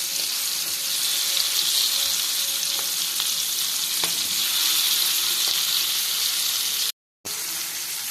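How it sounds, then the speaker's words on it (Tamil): Sardine fish frying slowly in a pan, a steady close hiss and sizzle with faint crackles running throughout, briefly cutting out near the end. "மீனை போட்டுட்டு கொஞ்சம் ஸ்லோவாக வச்சு வறுக்கலாம்."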